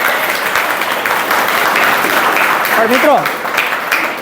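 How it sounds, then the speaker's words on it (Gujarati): Applause from students in a school classroom, a dense patter of many hands clapping steadily throughout, with a teacher's voice speaking over it toward the end. "એને જોરદાર તાળીઓથી આપણે સરસ"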